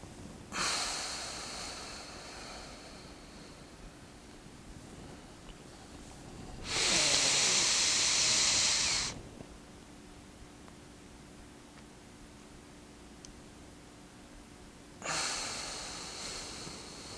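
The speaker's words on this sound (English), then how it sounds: "inhale for 4, hold for 7, exhale for 8" Slow, deep breaths in and out during a relaxation exercise: three long, airy breath sounds, the middle one loudest and longest, separated by quiet pauses.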